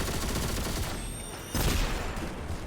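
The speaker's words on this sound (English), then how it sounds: "It's a lot of grenades coming." Gunfire and grenade blasts in the Destiny Grand Master Nightfall Insight Terminus, a dense, continuous fusillade of shots with a heavier burst of explosions midway, loud and close with no talking.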